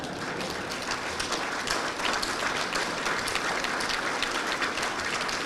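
Sustained audience clapping at a land policy event with Nigeria's Vice President Osinbajo: a steady, dense wash of many hands, moderately loud and even, with no pause.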